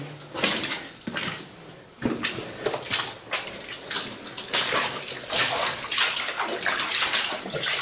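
Footsteps wading through water inside the 1880 Channel Tunnel workings, with repeated splashing and sloshing strides echoing in an enclosed space, fairly close and continuous.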